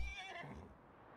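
A horse neighs on a horse farm in Farming Simulator 19, a faint, brief whinny with a falling pitch that fades into quiet background.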